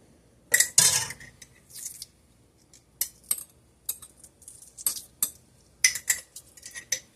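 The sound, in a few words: glass canning jars of salsa clinking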